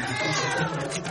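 A cartoon cat lets out a drawn-out, wavering hungry meow, loud and close, lasting about a second.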